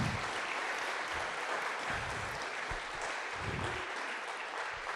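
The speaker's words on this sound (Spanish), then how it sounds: "¿Por qué no le damos un buen fuerte aplauso a Dios" Steady, sustained applause from a church congregation, even and continuous throughout, heard at a moderate distance.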